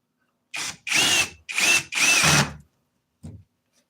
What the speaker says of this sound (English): All I needed this whole time was a fucking drill.